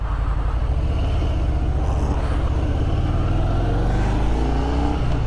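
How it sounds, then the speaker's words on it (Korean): A Harley-Davidson Breakout 114 motorcycle on a test ride gives a close, continuous deep engine rumble that builds as it accelerates, loud and steady with no talking. "하리 데이비슨 브레이크아웃 요거 어, 테스트 주행 한번 해보도록 하겠습니다"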